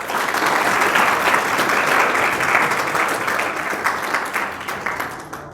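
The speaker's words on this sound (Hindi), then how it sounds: "तो एक बारी फिर से ताली बजाएंगे" A church congregation clapping together during a Hindi-language worship service, loud dense applause that holds strong for several seconds, then thins and tapers as individual claps trail off.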